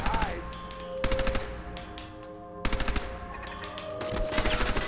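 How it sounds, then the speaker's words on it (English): Gunfire from a turret in a wasteland shooter video game, loud rapid bursts of automatic fire repeating in several volleys over a steady hum, with no talk. "someone's still shooting at me"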